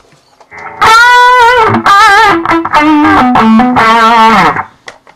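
A loud, heavily distorted electric guitar through a Digitech Hotrod with a Behringer EQ700 volume boost plays a wailing lead line with bent, sustained notes, alone and up front.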